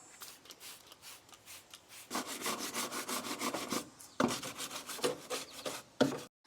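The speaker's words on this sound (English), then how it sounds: "spraying the degreaser, scrubbing it, putting some water and soap on it, and then scrubbing it even more" A brush scrubs degreaser over a Volkswagen GTI engine bay in quick back-and-forth strokes, a rhythmic close scratching that gets louder and faster partway through, with brief pauses between bursts.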